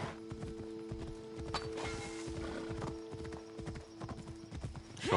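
Steady clip-clop of horse hooves in a quick walking rhythm in the video game Assassin's Creed Odyssey, close and clear, with faint background music and an occasional brief snort.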